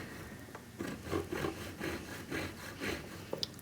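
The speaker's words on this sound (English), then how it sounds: "A wax saw blade is spiral" A spiral wax saw blade cutting through a tube of carving wax gives close, rhythmic rasping strokes, about eight even back-and-forth pulls with no talking.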